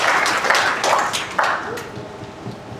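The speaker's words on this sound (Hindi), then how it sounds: "तो एक बार शानदार ताली होनी चाहिए।" An indoor audience at a business presentation breaks into dense, steady applause, many hands clapping together at a loud level. The clapping gradually thins out over a few seconds.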